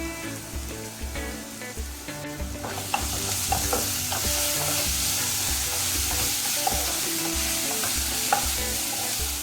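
Shark fish sizzles loudly in hot oil with ginger-garlic and onion paste, stirred in a pan with repeated scraping strokes over a constant close frying crackle.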